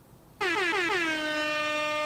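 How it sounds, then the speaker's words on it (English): A loud air horn blast bursts in sharply after a brief quiet moment and holds steady and strong to the end, a single sustained honk. "Wanted my air horn, not my other one."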